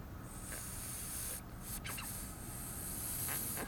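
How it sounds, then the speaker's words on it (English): Air blown by mouth through the two small ports of a Tecumseh Snow King carburetor from a 5 hp Craftsman snow blower, a steady soft hiss lasting a few seconds at close range with no talk. "You know how you can hear that air coming through on the 2 holes?"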